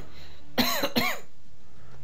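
A single harsh cough in two quick bursts from a man close to the microphone, loud against a quiet background hum.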